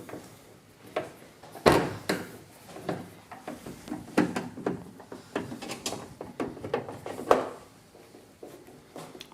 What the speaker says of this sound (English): putting all the screws back into place.